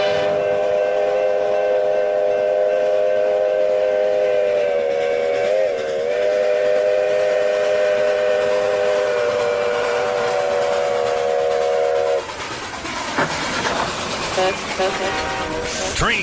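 Train and steam whistle effect in a country radio jingle, a long sustained multi-tone whistle over rail clatter, then a rougher rush of noise with sliding tones near the end, loud and up front.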